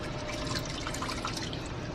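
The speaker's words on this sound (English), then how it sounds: "Look at that, you can see the bubbles. It's boiling." Dense, continuous bubbling and churning as dry ice boils in liquid, heard up close at a steady level without speech.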